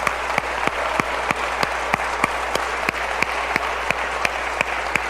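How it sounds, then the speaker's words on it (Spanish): A church congregation claps together in a fast, steady rhythm, the sharp beats of the applause carried over a dense crowd wash. "Dale un aplauso al Señor"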